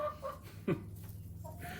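Laying hens clucking softly in short, scattered calls, with one sharper cluck standing out, fairly faint and near.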